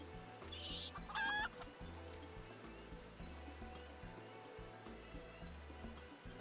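Chickens cluck nearby in Final Fantasy XIV, with a brief squawk early on, over a busy background of steady ambient noise and a soft low rhythm.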